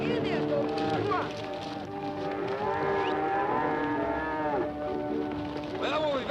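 Cattle being driven at a bedding ground let out long, sustained moos that overlap and carry steadily throughout, a dense lowing herd sound with no pauses.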